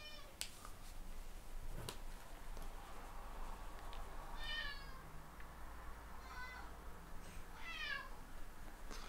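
A hungry house cat meows several times, drawn-out and plaintive, its cries spaced a couple of seconds apart against a low steady background hum, fairly quiet and heard from a short distance.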